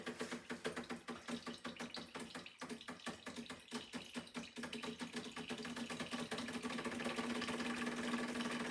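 A Decent espresso machine pulling a shot gives a close, rapid mechanical pulsing pump buzz with a steady hum, its rhythm growing smoother and more even as the shot continues, with no talking.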